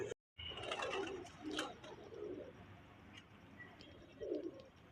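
Pigeons coo softly in low, rounded bursts, several calls spread across the moment with faint chirps and rustling around them.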